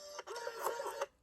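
An Epson OK500P PC-connected label printer prints and auto-cuts a label, producing a short burst of close mechanical whirring and clicking with a few sharp ticks, without speech.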